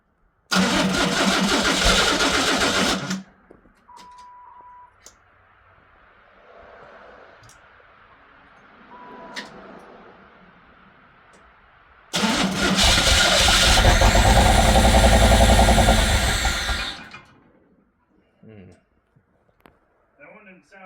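A Pontiac Fiero engine cranks and runs briefly, shuts off, then after a quieter stretch with talking starts again and runs loud and steady for about five seconds before shutting down.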